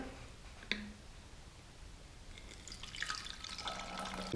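Blue-dyed water poured from a cup into a 16-ounce bottle, a faint click and then a quiet splashing trickle building toward the end, close and without talk.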